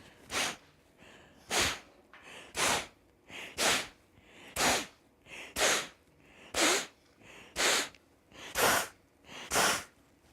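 Kapalabhati yoga breathing, about eleven forceful nasal exhalations in a steady rhythm, roughly one per second, each a sharp close puff with quiet gaps between and no talking.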